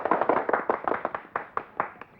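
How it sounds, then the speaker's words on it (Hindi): A small group claps by hand, with distinct, fairly close claps that grow sparser and slow toward the end. "तालियां!"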